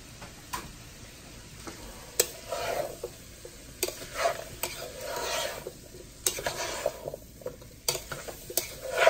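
Cubed potatoes are stirred in a pot for vegetable soup, giving scraping and clinking strokes over a faint sizzle, close and irregular, with brief sharp knocks between the stirs.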